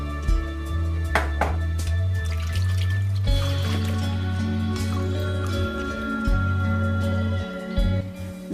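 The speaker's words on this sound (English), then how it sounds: "we're gonna rinse the vegetable a few times" Tap water runs steadily while vegetables are rinsed, a close continuous trickle and splash over a low background hum.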